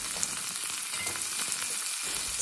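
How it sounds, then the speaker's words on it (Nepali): Chopped onions fry in a pan for chayote curry, giving a dense, steady crackling sizzle up close that continues without pause. "अब चाहिँ प्याज फ्राई गर्नुपर्ने हुन्छ।"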